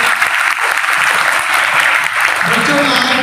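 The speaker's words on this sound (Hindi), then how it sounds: "एक बार अपने लिए तालियां बजा दो।" Children at a youth group event clapping for themselves, loud and sustained crowd applause close up, with voices mixed in toward the end.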